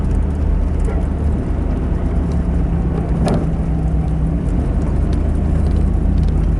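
Car driving along a road near a campground, a steady loud engine and road rumble throughout with no talking.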